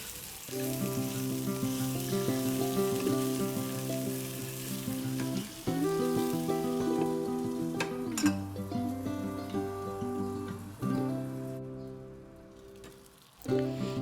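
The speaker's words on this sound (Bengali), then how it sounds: "লেগ পিসগুলো এবার আস্তে আস্তে করে ভাজবো ঢাকা দিয়ে রেখেছি" Chicken leg pieces fry in a covered pan with a soft, continuous sizzle over a steady tonal hum, with a few clatters of the lid or utensil toward the end.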